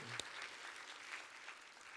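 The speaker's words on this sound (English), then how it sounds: "Give God clap offering of praise." A church congregation applauds during a worship service, giving a steady wash of clapping that sounds faint and distant, heard alone.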